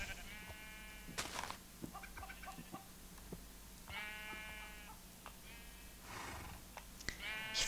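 Minecraft sheep bleat in short repeated calls among clucking chickens on a farm with cows, moderately close over a faint steady background hum, without talk.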